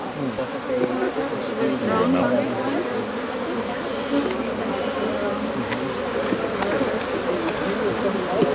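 Dense, steady buzzing of many honey bees swarming close by at a hive being split, a continuous droning hum that fills the whole stretch without pause.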